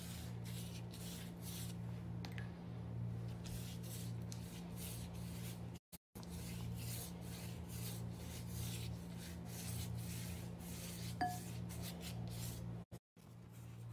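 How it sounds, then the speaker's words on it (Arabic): A pastry brush rubs syrup across a sheet of thin phyllo dough for a cheese spiral borek, giving a steady soft rasping swish that runs almost unbroken, close and fairly quiet over a low steady hum. "نزلت طبقة من الجلاش وادهنها بالتشريبة بالكامل."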